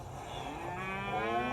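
One long, low moo from a cow, fairly close, rising and drawn out with no other voices.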